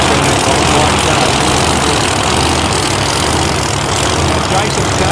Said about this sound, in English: Get a high rev burn like that.